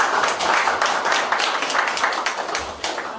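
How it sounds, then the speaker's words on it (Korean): Audience applause greets a lecturer being introduced for a history talk, a dense steady patter of many hands clapping at close range throughout. "여러분 큰 박수 부탁드립니다."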